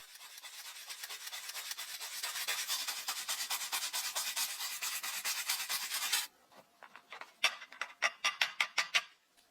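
Plastic handle scales from a vintage sailor's rigging knife are scrubbed clean of rust and dirt, with a steady rapid rasping rub up close that stops abruptly and gives way to a string of short, separate scrubbing strokes.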